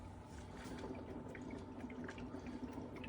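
A Waterdrop CoreRO countertop reverse osmosis system flushes water in a soft, continuous trickling hiss with faint drips, quiet and close, without speech.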